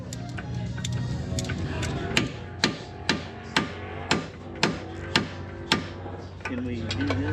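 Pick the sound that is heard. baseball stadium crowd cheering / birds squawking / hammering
hammering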